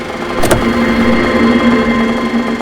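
A car engine runs steadily at close range, a continuous mid-pitched hum with a short sharp burst near the start and no talking.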